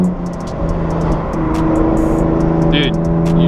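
A loud BMW M4 engine pulls hard under acceleration from inside the car, a dense rising drone with rapid ticking and crackles over it, and a voice briefly heard.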